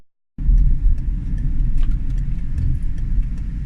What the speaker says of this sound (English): I'm going to do a little acceleration here.